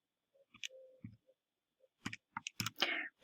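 Quiet clicks and taps from fingers pressing calculator keys, a few scattered presses and then a faster run of several, close up with no talking.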